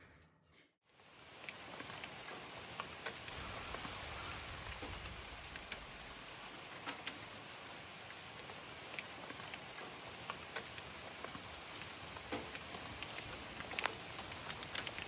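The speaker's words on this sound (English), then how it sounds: "we actually have a little bit of a rain squall going on out here today" Steady rain squall falling outside a house during a power outage, a continuous close hiss of rain with scattered louder drops and taps throughout, no voices.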